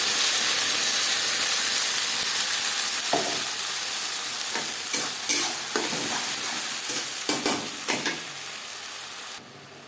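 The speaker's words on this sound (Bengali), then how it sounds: "একটা বড় সাইজের পেঁয়াজ আমি স্লাইস করে কেটে নিয়েছি এক দু মিনিট নাড়াচাড়া করে নেওয়ার পর দিয়ে দেবো মশলাকে" Sliced onion fries in a pan with a loud, hissing sizzle, while a spoon stirs it in irregular scraping strokes that grow busier toward the end.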